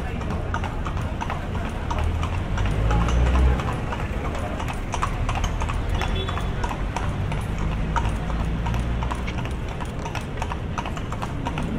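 Horse hooves clip-clop steadily on the streets of historic Intramuros, Manila, as a horse pulls a tourist carriage, a continuous close rhythmic clatter heard alongside a guide's narration.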